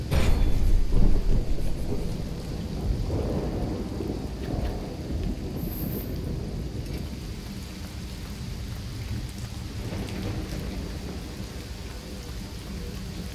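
Steady rain pours through a thunderstorm in the video game Risen 2: Dark Waters, with a loud rumble of thunder at the start fading into a continuous wash of rainfall.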